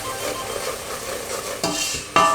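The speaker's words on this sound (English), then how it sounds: "Just mix it around." Gingerbread mixture is stirred in a pan on the stove, a steady scraping swish with a faint sizzle beneath, ending in two sharper clinks of the spoon against the pan.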